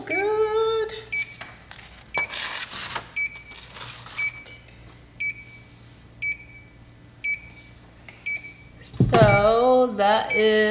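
Short electronic beeps from a Sawgrass SG500 sublimation printer repeat at a steady pace, a few seconds apart, over low background noise and a voice talking at the start and near the end.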